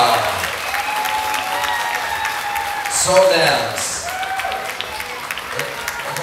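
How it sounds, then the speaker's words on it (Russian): Audience applause at a dance school's mambo show performance, steady dense clapping throughout with a brief louder swell in the middle, a voice speaking over it. "Громче аплодисменты должны как-то звучать"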